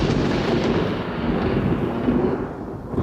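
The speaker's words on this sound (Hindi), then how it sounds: "बादल गरजना।" Deep rolling thunder from storm clouds, a continuous loud low rumble that swells and fades slightly over a few seconds with no voices.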